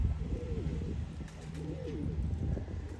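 An old male racing pigeon, four to five years of age, coos in two rolling, throaty phrases close by, over a low background hum with faint chirps.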